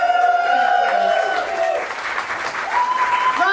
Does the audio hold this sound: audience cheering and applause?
yes